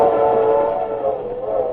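A steam train sound effect in a radio drama: a loud, steady whistle-like tone over rumbling chuffing, held unbroken and close.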